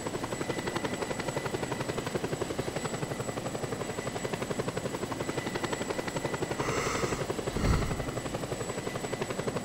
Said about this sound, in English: this chopper is terrifyingly powerful